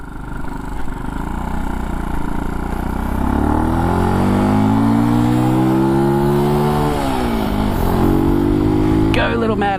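Motorcycle engine revving while ridden on a street and sidewalk, a loud, close, steady drone that climbs in pitch through the gears, dips and rises again, with a voice briefly speaking over it.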